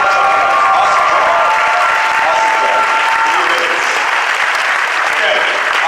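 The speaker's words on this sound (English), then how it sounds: "Give a round of applause" Loud, dense applause from a room full of people at a business event, constant clapping with some crowd noise and faint cheering mixed in, no speech over it.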